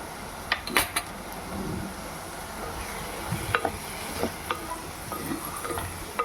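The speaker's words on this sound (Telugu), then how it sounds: "పెద్ద సైజు ఉల్లిపాయలు 2 ఉల్లిపాయలు కట్ చేసుకుని 4 పచ్చిమిరపకాయలు ఇలా కట్ చేసుకుని ఇవి కూడా ఆయిల్లో వేసుకుంటున్నాను" Two large chopped onions and four green chillies sizzle in hot oil in a pan while being stirred, with scattered clinks and scrapes of a utensil against the pan over a steady low frying hiss.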